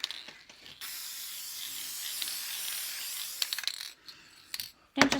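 An aerosol can hisses in a light, steady spray over a finished colored picture for a few seconds, followed by faint clicks and handling sounds, close and quiet.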